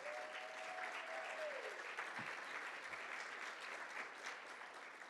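An audience at a closing session and community meeting claps for the event's sponsors, with steady, dense applause sustained throughout at moderate distance.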